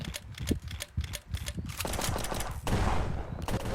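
Gunfire from the Roblox game Prison Life rattles in rapid automatic bursts and scattered single shots, a dense, continuous fusillade at moderate level with no talking.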